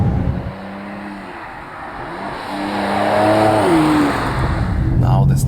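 A 2019 Mercedes C43 AMG facelift engine rises in pitch under hard acceleration through the gears from 100 to 200 km/h, heard from inside the cabin with a steady road roar and someone talking over it.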